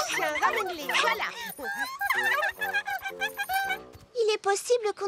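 Cartoon dog at a dog show, whimpering and yipping in high bouncing cries that mix with quick animated sound effects, with a short burst of bright yips near the end.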